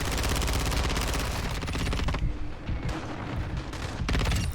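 An ISO 9mm submachine gun in a video game fires loud, rapid automatic bursts, one long continuous stream followed by a brief break and then more close, sharp fire.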